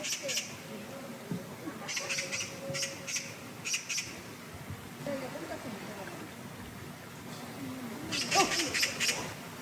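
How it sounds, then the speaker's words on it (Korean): A pair of magpies squawk and chatter in repeated harsh bursts while confronting a cat outdoors, the calls coming in clusters near the start, middle and end over a steady background hiss. "오늘은 고양이와 까치 부부가 붙었습니다."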